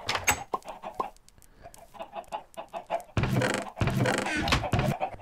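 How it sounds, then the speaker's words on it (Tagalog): Chickens clucking on a chicken farm in the Minecraft video game, a busy run of short clucks and squawks, close and fairly loud, with several bursts overlapping and no talk. "itong manok na ito"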